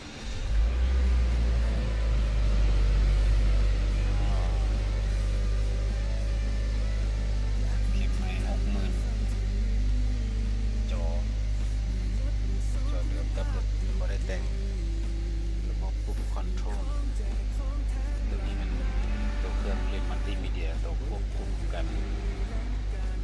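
A 2017 Mazda2 automatic with push-button start idles as a steady, deep engine drone, heard close and constant while a person talks over it.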